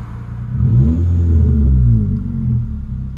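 Nissan Skyline R34 engine droning low and close while driving, a deep rumble that swells as the car pulls and then settles into a steady hum, with no voices.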